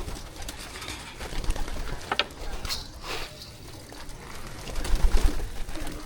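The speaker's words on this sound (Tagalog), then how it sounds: "focus mo din yung mga kalapati ko" Domestic pigeons kept by a breeder coo repeatedly in a loft, soft low calls blending with light rustling and faint background movement, with no one speaking.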